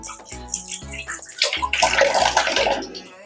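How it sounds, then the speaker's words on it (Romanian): Water runs from a turned-on tap into a sink, a steady broadband rush that rises partway through after a few short knocks and clatters at the start, fairly close and loud. "dăm drumul la robinet, o umezim"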